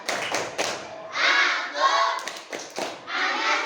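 A class of schoolchildren claps rhythmically in quick bursts while chanting the Tepuk anak sholat song together, claps and voices mixed close up.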